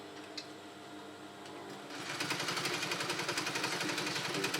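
A sewing machine stitches a senator lapel with a belt strap design. It starts quietly, then runs steadily from about two seconds on, with a fast, even mechanical rattle close by.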